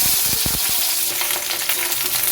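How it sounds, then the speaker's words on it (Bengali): Flat beans sizzle and crackle in hot mustard oil, a dense steady frying hiss with a few clattering stirs near the start, close and fairly loud with no voices. "সর্ষের তেল দিয়েছি, তেলটা গরম হলে শিমগুলো দিয়ে দেব।"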